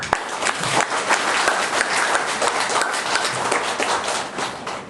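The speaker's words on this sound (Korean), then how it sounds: "우리 부회장님이 안 계시지만 박수 한번 드립니다." A roomful of people at a lecture gathering clapping, brisk and sustained for several seconds, loud and fairly close with a rapid irregular patter.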